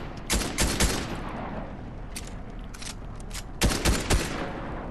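Gunfire from the video game Fortnite shooting at a sign: two clusters of sharp, rapid shots, one early and one near the end, with a steady game background hum between them.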